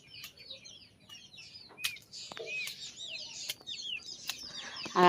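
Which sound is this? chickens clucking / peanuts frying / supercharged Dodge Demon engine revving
chickens clucking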